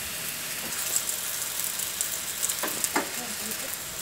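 Boiled spaghetti noodles, tossed with a little oil beforehand, go into a hot pan for a drunken-noodle stir-fry with seafood, pork, chicken and shrimp, giving a steady close sizzle and crackle with small pops and no talking.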